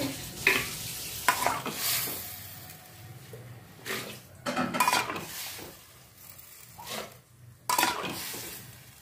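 Potato and bari curry stirred and roasted in a pan, with a spoon scraping and clattering against the metal in irregular bursts over a steady low sizzle, close up and with no talking.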